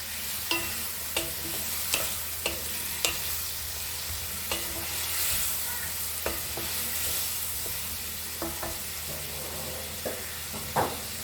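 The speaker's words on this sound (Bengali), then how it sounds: "মশলাটা ভালো করে কষে নেবো যতক্ষণ না কাঁচা গন্ধ যাচ্ছে।" Spice paste for Bengali cabbage ghonto sizzles steadily in a pan with a splash of water, a close continuous frying hiss broken by regular sharp scrapes and taps of a spoon stirring, with no talking.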